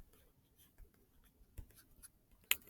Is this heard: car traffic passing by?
no